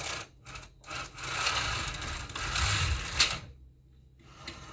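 The carriage of an MT 700 domestic knitting machine is run across the needle bed to knit a first row, giving a close, steady mechanical rasping and clatter that ends abruptly.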